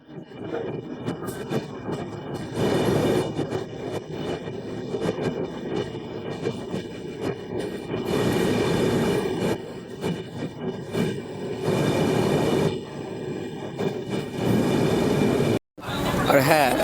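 Kumbh Express passenger train (Howrah–Dehradun) running, a steady loud rolling rumble throughout with a brief dropout near the end, with voices heard at times over the noise.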